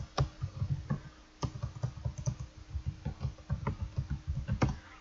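Fingers tap out a search on a computer keyboard in a steady, uneven patter of close, crisp key clicks, with a brief pause partway through and no talking.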